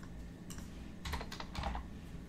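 Typing on a computer keyboard: a short quick burst of clustered keystrokes, close and fairly quiet, with no voices.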